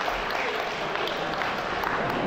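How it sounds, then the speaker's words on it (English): Audience applause for the MCs at a Karen community event's closing, a dense steady wash of clapping filling the short stretch at moderate level. "Ladies and gentlemen, please give them also a round of applause."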